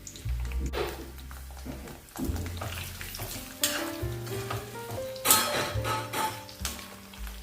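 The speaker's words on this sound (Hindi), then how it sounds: "पहले हम गोभी को तलेंगे।" Cauliflower frying in hot oil sizzles loudly and continuously, broken by metallic scraping and clattering from stirring in the pan.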